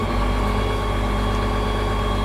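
A truck engine holds at full throttle around 1400 RPM, producing a loud, steady, unchanging drone with a deep rumble throughout and no voices.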